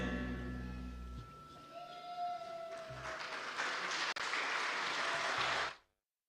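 A church congregation at a Sunday service claps after a song, a faint, even wash of applause that lasts several seconds before cutting off abruptly.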